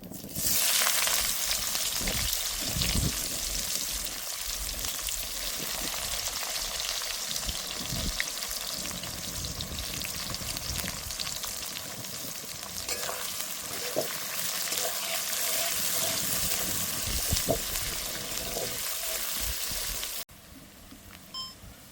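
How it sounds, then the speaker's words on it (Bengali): Chopped onions sizzle and fry in a hot pan as the base for a pork masala, a loud, steady crackling hiss running on for about twenty seconds before cutting off abruptly. "এবার দিয়ে দেবো কেটে রাখা পেঁয়াজ কুচি"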